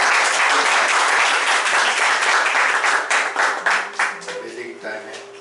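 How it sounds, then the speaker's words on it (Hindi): Church congregation claps vigorously in a dense, steady burst of applause that thins and fades toward the end as music begins to enter underneath. "एक जोरदार ताली करें परमेश्वर"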